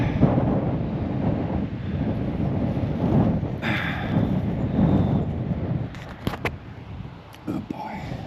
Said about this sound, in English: It's been windy all night.